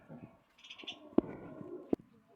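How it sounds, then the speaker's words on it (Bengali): A pigeon coos indoors, low soft murmuring calls close by, with a few faint higher chirps and two sharp knocks. "কবুতরটা কিন্তু এখন ঘরের ভিতরে আসার জন্য পাগল হয়ে গেছে"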